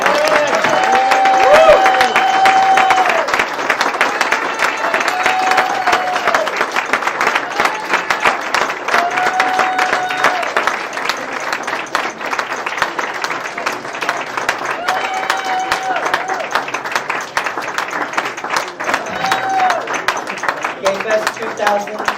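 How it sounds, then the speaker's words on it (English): At a New York gala, an audience gives warm applause as a speaker is welcomed to the stage: loud, sustained clapping over twenty seconds, with cheering and voices carrying above it. "welcome to the stage, with warm applause, David Mixner."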